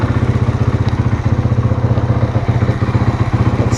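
A Husqvarna motard motorcycle fitted with an aftermarket exhaust runs close by, its engine thumping in a fast, even idle throb with some mechanical clatter, loud and steady throughout with no talking.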